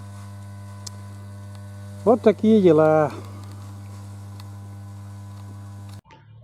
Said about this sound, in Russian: Ой, шумит мотор.